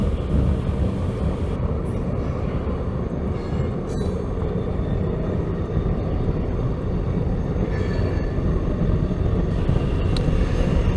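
A CSX freight train, local 422 heading north on the ANB Line at Albany Avenue in Waycross, rolls past as a steady, close rumble of railcars that holds for the whole stretch with no break, and no one speaks.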